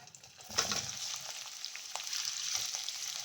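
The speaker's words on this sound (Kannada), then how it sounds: "ಈರುಳ್ಳಿ ಸ್ವಲ್ಪ ಕೆಂಪು ಫ್ರೈ ಮಾಡ್ಕೊಳ್ಳೋಣ" Chopped onions fry with cardamom and chillies in a pan for a restaurant-style mushroom gravy, a faint, crackly sizzle with a few soft stirring scrapes.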